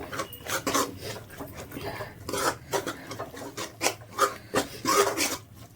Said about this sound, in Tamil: இப்போ இது ஒரு 2 நிமிஷம் அப்படியே வதக்கி விடுவோம்.